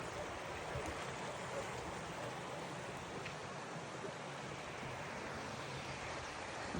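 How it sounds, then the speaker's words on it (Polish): The Połcznica river flows in a steady, unbroken rush of water, close and continuous throughout, with no voices over it. "No to rzeka ta nasza, połcznica."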